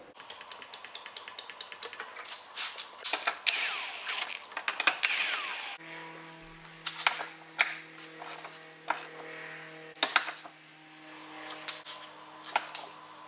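Bolts on a 2010 Ford Fiesta's rear axle brackets are tightened against the chassis with a ratchet: irregular metallic clicks and clanks, close up, with a steady hum in the background and no talk.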